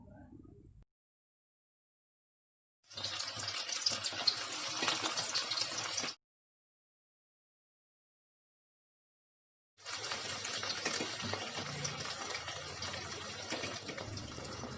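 Chicken pieces dropped into hot sunflower oil sizzle in two steady, fairly loud bursts separated by a few seconds of silence, with no voices.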